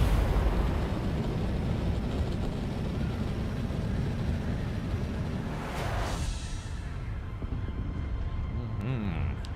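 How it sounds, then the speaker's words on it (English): A scout chopper with its booster engaged flies in the video game Dune: Awakening, giving a loud, steady roar of rushing engine and wind noise that holds for about nine seconds before easing slightly. "these scout choppers make it very quick as long as you have the booster"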